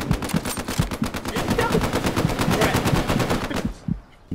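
Sustained rapid machine gun fire in the Hell Let Loose World War II shooter, a loud continuous burst of rhythmic shots lasting several seconds before cutting off abruptly, with faint voices underneath.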